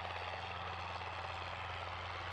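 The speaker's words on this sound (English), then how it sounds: "Chopper has arrived." Helicopter arriving, a steady droning rotor and engine hum that stays constant and fairly faint throughout with no voices.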